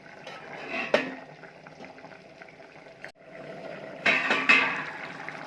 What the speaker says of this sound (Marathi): आपण मंद आचेवर 10 मिनिटं शिजवण्यासाठी ठेवणार आहे झाकण लावून।